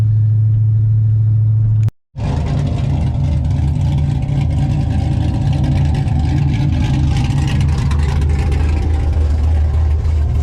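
A Pontiac GTO fitted with a Borla exhaust, limping along with the exhaust loose, gives a loud, steady low engine drone close by, broken by a brief dropout early on, then continuing as a constant rumble.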